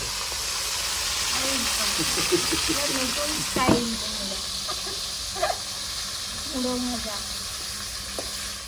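Three fish heads sizzle and fry in a pan for a curry with greens, taro and pumpkin, a steady bright hiss with occasional stirring clatters and scrapes, close, while a voice talks over it.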